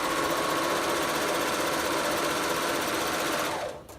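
A Bernina overlocker runs steadily at speed, sewing a rolled hem along chiffon fabric, its fast even whir holding loud and close until it winds down near the end.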